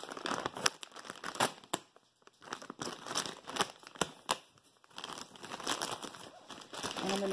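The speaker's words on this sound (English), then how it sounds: "finish cutting it open." Plastic packaging around a Zinus 12-inch green tea memory foam mattress being cut and torn open, with close crinkling, crackling and ripping bursts coming in uneven bunches and short pauses, heard alone.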